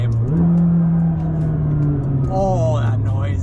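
A McLaren 600LT engine drones low and close while driving, steady and then swelling under acceleration, with someone talking over it.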